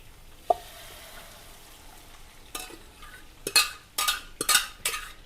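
Lentils go into a hot frying pan with a single clink, then a low sizzle builds before a run of loud rhythmic scraping strokes as a spoon stirs them around the pan.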